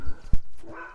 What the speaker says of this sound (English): this is Pan walking a little puppy at the animal shelter